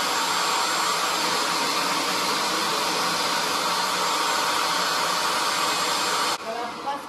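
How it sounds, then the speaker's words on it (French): An upholstery cleaner vacuums water out of a sofa with a loud, steady whooshing suction roar that holds constant, then cuts off abruptly near the end, leaving quieter room noise. "pour aspirer l'eau, vous avez juste à passer sur le canapé comme ça"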